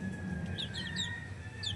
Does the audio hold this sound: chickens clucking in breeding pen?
yes